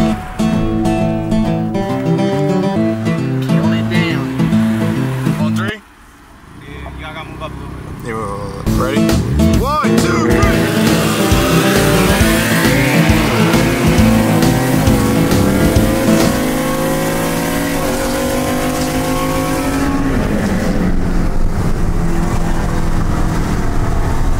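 A sleeper Ford F150 work truck races a VR30, its engine roaring loud and close with rising revs, a brief drop in level, then sustained hard acceleration with tire noise; people talk over it.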